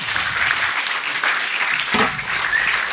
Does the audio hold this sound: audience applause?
yes